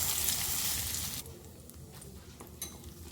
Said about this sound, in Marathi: आता त्याच्यामध्ये मी हे राईचं तेल आहे ते जरा गरम केलं आहे ते गरम करून